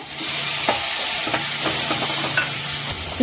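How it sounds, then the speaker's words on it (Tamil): Steady sizzle of tomatoes sautéing in a pan, with scattered clinks and scrapes of a spoon stirring, close up and continuous. "தக்காளி சேர்த்து நல்லா வணக்கி விட்டுருங்க"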